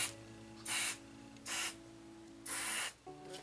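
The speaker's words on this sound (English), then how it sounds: "I'm just going to hold these up and spray" Spray paint hisses from an aerosol can in four separate bursts, each lasting roughly a third to half a second, onto resin seashell chess pieces, with quiet pauses in between.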